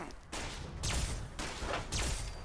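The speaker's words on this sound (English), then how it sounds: "Here's a clip of the Alien Blaster in action with its newfound ammo" An Alien Blaster firing in Fallout 76, three loud bursts of sci-fi energy shots in quick succession, each with a sweeping zap over a dense rushing roar, close and without talk.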